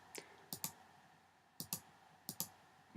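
Mouse clicking in image editing software, three pairs of crisp double clicks with even gaps between them, close and quiet against a faint room hum, no talking.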